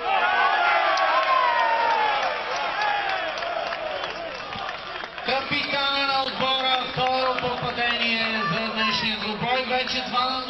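A football crowd at a CSKA match against Elin Pelin roars, cheers and applauds a goal, a loud, sustained stadium swell, then a public-address announcer speaks over the continuing noise.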